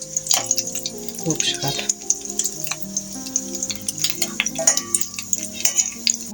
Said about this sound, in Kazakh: Мінекей осылай қып-қызыл қылып қуырып аламыз, қызартып.